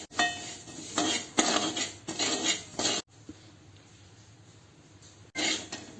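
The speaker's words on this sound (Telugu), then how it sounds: "నువ్వులు దోరగా వేయించుకోవాలి." Sesame seeds dry-roasting in a pan at home, stirred with a metal spoon that scrapes and clinks against the pan in short bursts, then a quieter pause before the stirring resumes, close and moderately loud.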